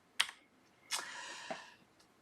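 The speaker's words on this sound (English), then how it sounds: "we can do that by typing simultaneously Control C using the keyboard" Keys pressed together on a computer keyboard to send a Control C interrupt, heard as a sharp click followed by a longer clattering press and a couple of fainter taps, close and alone.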